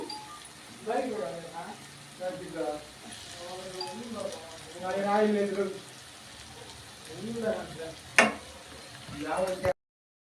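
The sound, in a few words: stirring coriander and chilli powder frying in pan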